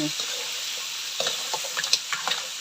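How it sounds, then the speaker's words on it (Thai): Crab stir-fried in a wok with roasted chili paste, a soft steady sizzle with scattered scraping and clinking spatula strokes, close and fairly quiet, with no talk. "ก็เลยต้องมาเป็น ปู ผัดพริกเผา"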